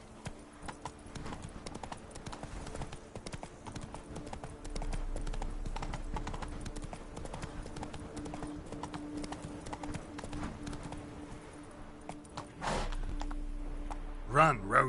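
Roach the horse runs in The Witcher 3: Blood and Wine, her hoofbeats a steady clip-clop rhythm across the stretch, with spoken voices and game sounds over them.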